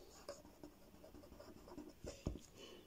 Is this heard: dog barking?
no